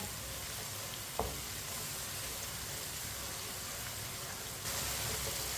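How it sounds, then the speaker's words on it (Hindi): Tomatoes frying in a pan while a spoon stirs them, for a tinda (round gourd) sabzi: a soft, steady broadband sizzle with a single sharp scrape or tap near the start, and the hiss growing a little louder toward the end. "ऐसे ही चम्मच चलाते हुए 2 मिनट के लिए पकाना है टमाटर को"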